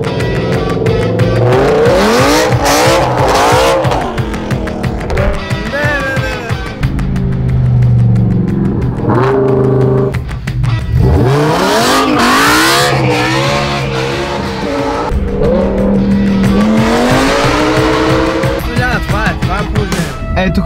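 A V10-engined car, the same engine as a Lamborghini's, revs hard at a tuning studio. It rises and falls through loud, continuous sweeps, with tire squeal mixed in.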